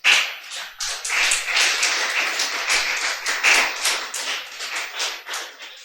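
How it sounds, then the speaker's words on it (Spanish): A church congregation claps together in a sustained round of applause, dense, even and fairly close, with no talk over it for several seconds. "dale ese fuerte aplauso al Señor."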